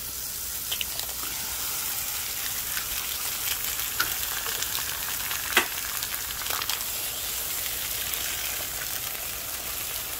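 Eggs crackle and sizzle steadily in a hot skillet beside a bed of spinach, a continuous close frying hiss with scattered sharper pops and a few faint utensil touches, no talking.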